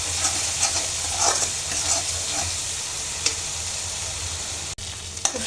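A spice paste of turmeric, cumin, ginger, onion, nigella and green chilli sautés in oil in a pan, giving a constant close sizzle with soft stirring scrapes and a couple of sharp utensil taps near the end.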